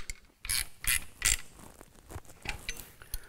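Ratchet tightening the adjustment bolt on an alternator during an LS engine marine conversion, giving a few short clicking strokes with creaks and metallic knocks, close and fairly quiet.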